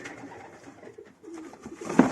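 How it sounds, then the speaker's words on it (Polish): Two pigeons coo softly in a close, quiet indoor space, a low throaty murmur that swells louder toward the end. "Także tu takie dwa gołąbki"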